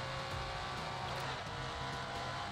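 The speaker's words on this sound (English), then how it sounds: "That car was loud." Loud, constant engine roar from a race car in the video game Forza Horizon 5, buzzing and droning without a break, close and uninterrupted.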